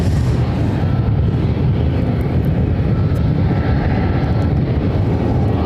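A Boeing 747 jet airliner taxiing at Ontario airport in California, a loud, steady engine roar with deep rumble that holds constant and close throughout.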